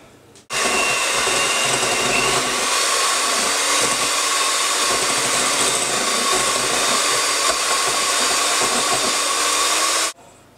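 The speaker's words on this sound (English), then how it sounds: "we're going to whisk it up really." An electric whisk running on high through creme fraiche, a loud, steady motorised whir that holds for about ten seconds before cutting off abruptly, with no voices.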